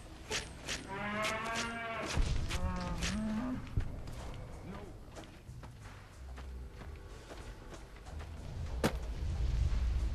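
A cow lows in the game Fallout New Vegas, heard as a strong, drawn-out moo early on. Thuds, clatter and low rumble from the game follow it.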